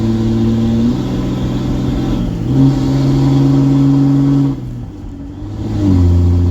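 A Ram 2500 pickup towing about 9,500 lbs, with a clogged fuel filter, accelerates through its gears: a loud, steady engine drone that drops in pitch at each upshift and then climbs again.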